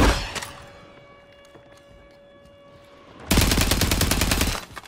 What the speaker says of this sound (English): Enemy soldier incoming. He's shooting, he's shooting.